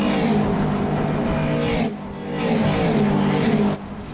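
500 race cars pass at the Kirkistown circuit in spray: loud, dense engine roar rolling by in two waves, each cutting off abruptly, with no voices.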